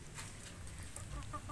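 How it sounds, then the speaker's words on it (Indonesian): Bangkok-breed chickens crossed with a Burmese breed clucking in a backyard pen, a soft continuous murmur of clucks with a few brief sharper calls near the end. "ayam bangkok atau jenis bangkok silang sama Birma"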